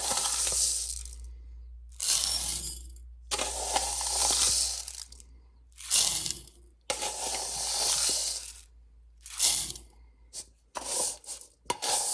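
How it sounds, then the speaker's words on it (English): Dry rice and pasta pour into a 24-ounce glass jar in several separate bursts, a close, gritty rattling cascade with short pauses between pours. "we're going to put the rice and the pasta in here"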